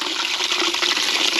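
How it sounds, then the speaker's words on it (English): Water runs steadily from an old trough tap in a barn near the feed area, a loud, even gushing splash that holds from start to end. "If you need water in the barn, there's this one here from the old trough just by the feed area."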